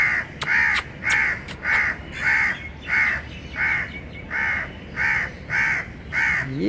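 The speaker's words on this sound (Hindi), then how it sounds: "ये जो कौवा है ये कुछ कह रहा है यहाँ पर बैठ के।" A crow caws repeatedly in the morning, about a dozen harsh, evenly spaced calls in a steady rhythm, clear and fairly close against low background noise.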